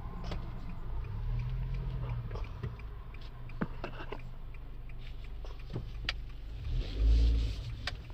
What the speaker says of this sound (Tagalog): Ayan po ang highway.